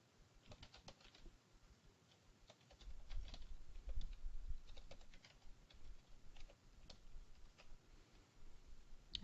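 Keys on a computer keyboard are tapped in quick, irregular clusters while unlocking keys are entered during software registration. The clicks are faint and close, with soft background noise and no talking.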